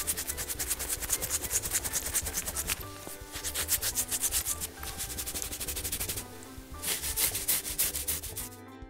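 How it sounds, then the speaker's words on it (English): Hair is scrubbed with shampoo during a bath, giving close, rhythmic rubbing and scratching strokes that repeat quickly and pause briefly partway through. "Now let's use some shampoo to wash your hair. Give your head a nice scrub."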